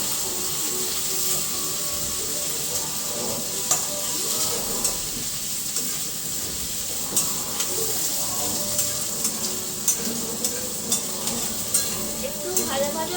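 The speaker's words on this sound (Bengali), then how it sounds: "আমি একটু ক্যাপসিকামটা ভেজে নিচ্ছি হালকা করে" Capsicum fries lightly in a pan, a steady soft sizzle with frequent sharp clicks and scrapes from stirring, mid-distance and continuous throughout.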